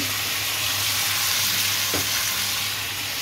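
Food frying in a home kitchen, a constant loud close sizzle with a low steady hum beneath it and one brief clink partway through, no talking.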